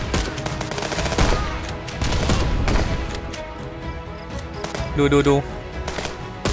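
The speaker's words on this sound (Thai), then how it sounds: "ยิงไปหลายนัดมากอะไม่ล้ม ขนาดเป็นปืนไรเฟิลนะเพื่อน" A rifle fires repeatedly in the video game Contraband Police, with several sharp, loud shots in quick succession followed by a pause and a later burst, while someone talks briefly over the action.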